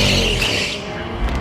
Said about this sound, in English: So I was working and then I hear burnouts.